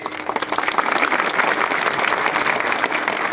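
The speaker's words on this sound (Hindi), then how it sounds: "सब इनको भी एक बड़ा ताली दीजिए।" Audience applause at a live political gathering in Tripura, a dense, steady wash of many hands clapping close and loud, sustained for the whole span with no talk over it.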